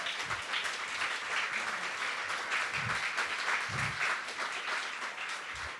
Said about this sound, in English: We can cheer up and applaud ourselves.